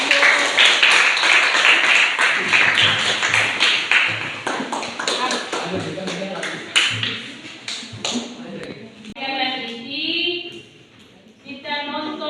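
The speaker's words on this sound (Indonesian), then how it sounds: "Demikian, kita berikan aplaus untuk" A room of students bursts into applause after a class presentation, the clapping loud and dense at first and then thinning into scattered claps, with voices talking toward the end.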